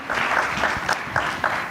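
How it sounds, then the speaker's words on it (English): A conference audience at the Djibouti Forum 2025 applauds after a panel conversation, brief dense clapping with a steady rhythm of claps, moderately loud and unaccompanied by talk. "A round of applause, please, once again, for Mr. Azevedo"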